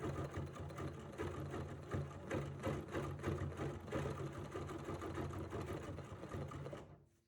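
A sewing machine with a ruler foot couching fiber, a close, steady, rapid mechanical chatter with a low motor hum, running evenly for about seven seconds before stopping abruptly.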